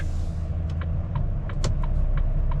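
Continuous engine and road rumble from a car overtaking on a road through small French towns, moderately loud and steady, with a few soft ticking sounds over the top.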